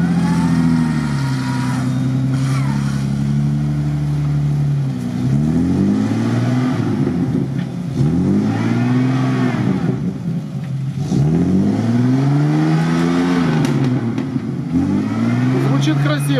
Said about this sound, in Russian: Мотор.